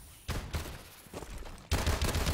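Bursts of video game gunfire crack out in two loud clusters, a rapid volley followed by a short pause and then a heavier barrage.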